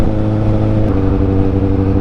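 A Kawasaki ZX14R sport motorcycle's engine hums loud and close while riding, a steady tonal drone with wind rush layered over it.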